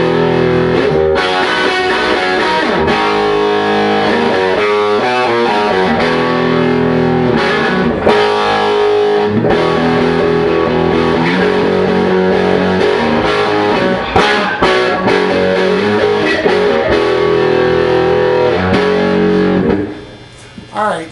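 A distorted electric guitar plays the chunky verse riff of a song at steady volume for about twenty seconds, then cuts off near the end.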